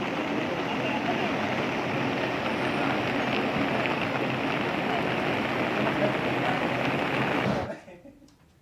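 Heavy rain pours in Uttarakhand, a dense, steady roar that holds at an even loudness and then drops away sharply near the end.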